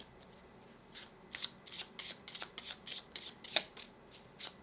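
Tarot cards are shuffled by hand in soft, quick riffling bursts, several in a row at an irregular rhythm, quiet and close with no talking.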